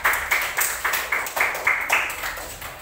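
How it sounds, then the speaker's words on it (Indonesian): Classroom group applause for a student group called Mawar Merah, a small gathering clapping in a steady rhythmic pattern of repeated bursts, close and fairly loud, with no talking. "terima kasih tepuk tangan buat kelompok mawar merah"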